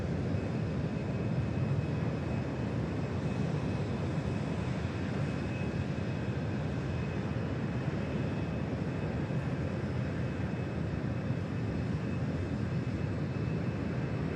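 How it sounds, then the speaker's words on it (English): A Virgin Atlantic Airbus A350-1000 jet arriving at Manchester Airport, a continuous broad engine roar and rumble at a steady level throughout, with a faint high whine running through it. "Arriving in from Orlando, Virgin Atlantic, A350 1000, look at that."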